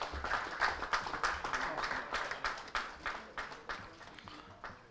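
An audience applauds a memento recipient at a border tourism white paper release event, with scattered, rhythmic clapping that is fairly faint and rises and falls in irregular pulses.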